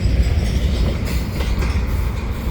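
A CPKC double-stack freight train rolls past at Marshall Ave on a Sunday afternoon, a steady, loud rumble of wheels and cars with a clickety-clack rhythm that holds throughout, no talk.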